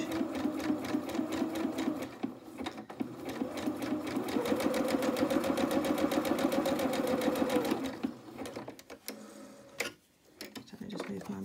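A sewing machine runs a zig-zag satin stitch on a fabric test piece, rapid even mechanical ticking that starts, holds steady for several seconds, then stops, with a person talking around it.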